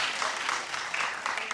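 Steady applause from a television studio audience fills the whole moment, a dense even patter of many hands clapping without pause.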